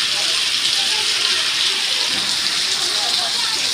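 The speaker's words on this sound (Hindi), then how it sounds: "पानी, देखो कहाँ कहाँ से आ रहा है" Rainwater gushing and pouring into a house during heavy rain, a steady loud broadband rush of water throughout, with faint voices in the background.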